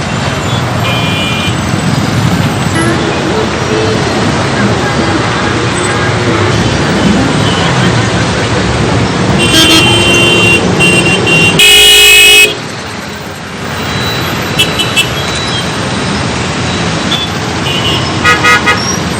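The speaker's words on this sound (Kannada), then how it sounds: "ರಾತ್ರಿಯಿಂದ ಮುಂಜಾನೆ ತನಕ ಭಾರೀ ಪ್ರಮಾಣದ ಟ್ರಾಫಿಕ್ ಜಾಮ್ ಉಂಟಾಗಿತ್ತು" Heavy traffic jam at a highway toll plaza, a loud, dense rumble of idling cars and trucks with repeated car horns honking near and far, one long blast standing out midway.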